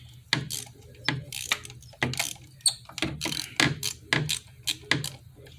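A ratchet with a 14 mm socket clicks while loosening a spark plug on a 2019 Chevy Spark 1.4, in short repeated bursts of sharp metallic ratcheting with small gaps between swings, close up.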